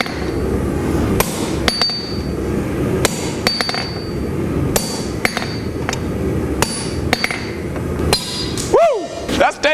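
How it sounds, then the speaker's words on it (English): Hammer forging the bevel on a steel blade: sharp, ringing metallic blows struck at an uneven pace, close and loud, over a constant roar of background noise, ending with a swooping whistle-like tone. "we're going to start forging the bevel on the blade"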